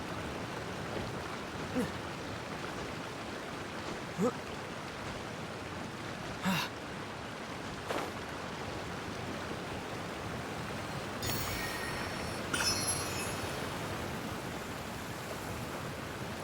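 Waterfall in the Genshin Impact video game, a constant soft rushing hiss of falling water running throughout, broken by a few brief clicks and short bursts of other game sounds.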